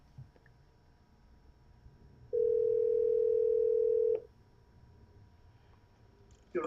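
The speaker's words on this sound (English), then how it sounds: "We're going to get him on the phone for y'all." A steady telephone dial tone sounds alone for about two seconds between faint room noise, loud and clear, as a call is placed.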